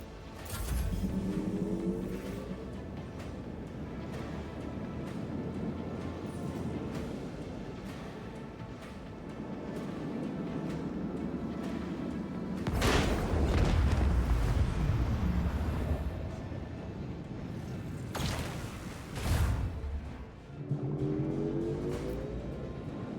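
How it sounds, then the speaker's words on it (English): Torpedoes launch in the space combat of the video game Warhammer 40k Rogue Trader: a sustained low rumble swells into two heavy, booming bursts near the middle and end, loud and close with no talk over them. "Torpedoes away."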